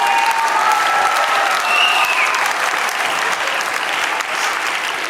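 A game show studio audience applauds a contestant's 25,000 dram win: steady, close, dense clapping that runs evenly throughout, with a few brief tonal accents over it.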